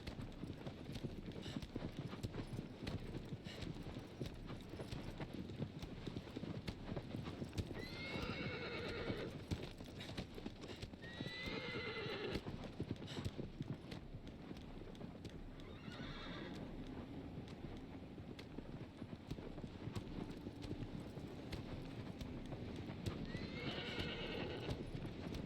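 Horse hooves clip-clopping steadily in the video game Shadow of the Colossus, a continuous galloping rhythm throughout, with several loud neighs and whinnies breaking in at intervals.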